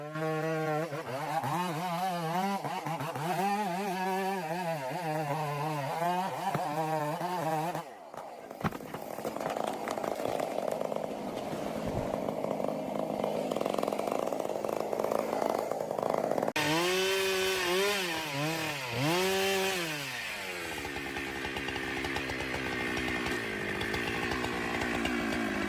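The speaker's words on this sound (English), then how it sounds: "The chainsaw plays the leading role, roaring to life, delivering precise cuts to bring down trees" Chainsaw felling towering trees in a quiet residential area, loud and close, with the engine revving in wavering surges, dropping to a steady rough drone while cutting, then revving again.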